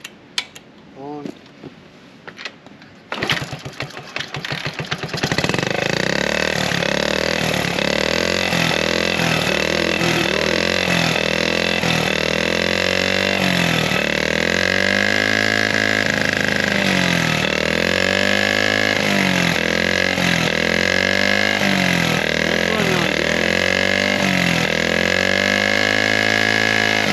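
1971 Honda Z50A small single-cylinder motorcycle engine given starting fluid: a few sputtering catches, then it fires and settles into a loud, continuous idle with rhythmic revving pulses, running alone for over twenty seconds.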